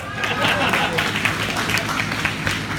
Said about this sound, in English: Let's give Victor Sanchez a big round of applause.